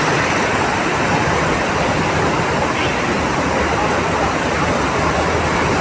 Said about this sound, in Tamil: ரொம்ப தண்ணி ஸ்பீடாக போய்கிட்டு இருக்குங்க